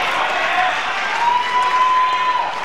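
A crowd at a professional boxing match applauds in a dense, continuous patter of clapping with a faint murmur, steady and fairly loud throughout.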